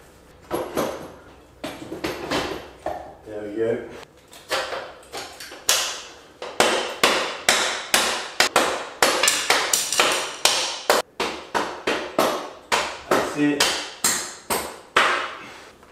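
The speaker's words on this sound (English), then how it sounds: "So I'm gonna pull this punch out and put the bolt in." A bolt is hammered in to mount an Xt225 motorcycle engine, with sharp metallic strikes coming in quick bursts and then a long run of steady, evenly spaced blows, loud and close in a workshop.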